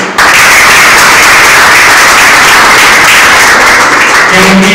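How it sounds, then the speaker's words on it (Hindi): A room full of people at a community welfare committee meeting breaking into loud, sustained applause, a dense, unbroken wash of many hands clapping close by for several seconds. "आप लोग जुड़ा ताली बजाएं"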